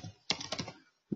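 Close, dry keystrokes on a computer keyboard come in a quick burst of several clicks, then a pause and a final tap, with no voices.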